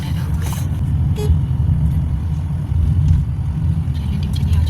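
Car driving along a road in northern Malaysia, a steady low rumble of engine and tyres heard from inside, with a faint brief toot partway through and no talking.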